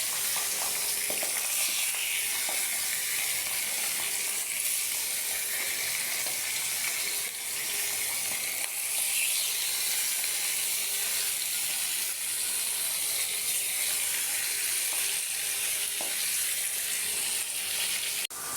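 Leafy greens being lightly fried in a pan, giving a dense, even hiss of sizzling oil that runs loud and unbroken throughout, with no voices.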